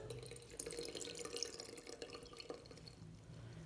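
Quiet, close drips and a thin trickle of water from a tap running for a cat, soft irregular plinks over a faint steady flow, with no voices.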